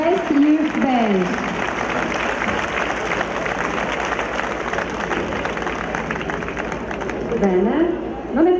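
Crowd applauding a youth marching band from Mexico at a band festival awards ceremony, with steady clapping throughout and an announcer's voice rising over it at the start and end, plus general crowd murmur.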